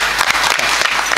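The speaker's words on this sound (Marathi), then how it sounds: "एकदा यांच्यासाठी टाळी वाजवा." Audience applause at a kirtan in Nashik, honouring a group of young Warkari education students; dense, steady clapping fills the whole short burst without pause.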